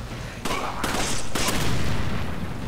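Bursts of gunfire from Resident Evil 5 gameplay, loud and close, with sharp volleys starting abruptly and continuing in repeated blasts over a rumbling game backdrop.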